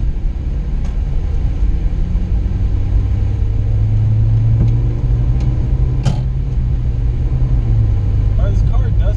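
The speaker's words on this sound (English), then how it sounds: "This car does drive surprisingly smooth." A white 2017 Ford Fiesta SE on the road, its steady low engine and road rumble droning inside the cabin, with someone talking over it.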